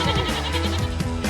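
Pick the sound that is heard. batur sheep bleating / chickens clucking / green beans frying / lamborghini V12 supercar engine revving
batur sheep bleating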